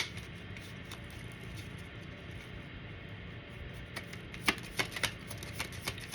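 Oracle cards are shuffled and pulled, starting with soft faint rustling and then a quick series of close, crisp card snaps and flicks near the end.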